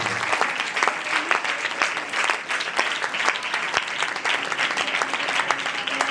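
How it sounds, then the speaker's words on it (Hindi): Audience applause at a worship night in Pakistan, a steady, loud burst of clapping from a crowd lasting several seconds, with no voices over it. "जोरदार तालियां दें।"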